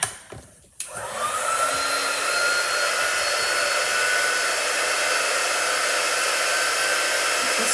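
A hair dryer drying a chalk transfer switches on after a brief clatter and then blows in a loud, steady, close roar that fills the rest of the clip alone.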